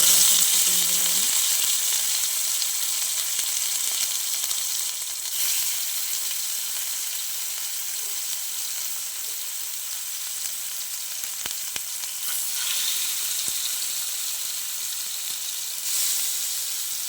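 White oil heated in a pan fries at slow heat, giving a steady even sizzle with a soft hiss that holds for the whole stretch, with faint clinks now and then.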